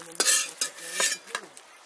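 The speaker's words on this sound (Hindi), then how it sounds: "तो ये देखिए तड़का दे रही है" Chillies, bay leaves and fenugreek seeds crackle and sizzle in hot oil in bursts as a tadka, with a utensil stirring and scraping the pan close by.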